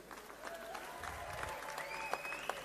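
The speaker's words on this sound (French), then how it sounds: "Toutes les applaudissements pour Rocky Balboa." Applause from an audience at an MMA event for fighter Rocky Balboa, a steady crowd clatter with faint voices and whistles over it, moderately loud throughout.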